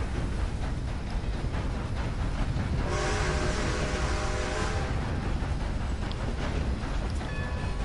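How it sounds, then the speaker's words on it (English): Train driven in the video game Red Dead, a constant loud rumbling roll of wheels on track with a long horn or whistle blast sounding through the middle. "Now I'm gonna drive the train."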